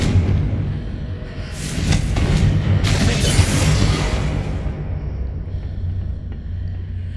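A Confringo blasting spell goes off in Hogwarts Legacy, a loud booming explosion with a bright crackling burst that swells and fades over a few seconds above steady rumbling game ambience.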